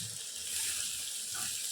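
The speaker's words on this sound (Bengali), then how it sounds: "এখন এর মধ্যে জল দিয়ে দেবো।" Hot water poured into a pot of braised meat, a brief, steady hissing rush of liquid, close and fairly loud, with no voices.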